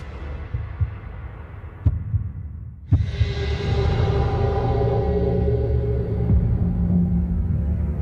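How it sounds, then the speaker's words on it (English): A heartbeat sound effect throbs as a low, steady pulse under a swelling dark hum, with a couple of sharp hits punctuating the start before the drone grows louder and holds. "I remember hearing my own heartbeat in my ears."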